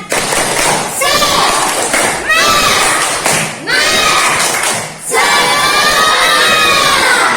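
A class of schoolchildren in a math lesson performs a tepuk semangat clapping chant. Loud, rhythmic bursts of claps mix with shouted voices in several phrases separated by short pauses.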